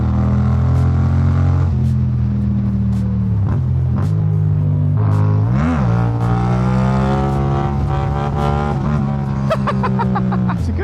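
A 70 horsepower engine on a homemade adventure motorcycle, fitted with an aftermarket exhaust, runs loud and close, holding a steady drone and then revving up and down with sharp rises in pitch.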